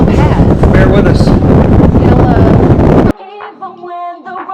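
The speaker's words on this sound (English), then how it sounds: "it's a little windy" Heavy wind buffets the microphone in a loud, roaring rush on the heliport of the cruise ship Explorer of the Seas, then cuts off abruptly and gives way to quieter music.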